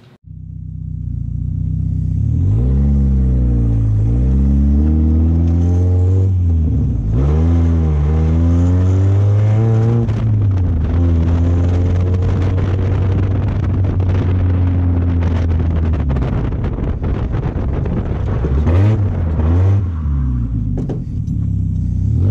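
A roll-caged car's engine roars close and loud through a quick lap, revving up and down in repeated sweeps as it accelerates and shifts, with a deep rumble underneath the whole time.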